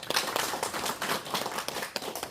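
Audience clapping at a memorial policy forum, a brisk dense patter of many hands heard alone and steady throughout.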